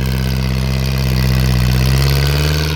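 A Kubota L4708 tractor engine runs at high rpm. It gives a loud, steady, close drone with a strong low hum and no break, and no one speaks.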